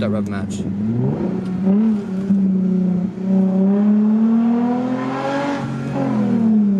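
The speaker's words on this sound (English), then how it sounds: "we're gonna hit that rev match" A 2005 Cadillac CTS-V engine revs for a rev match, its tone climbing, holding steady, then rising again in a second loud pull, heard up close.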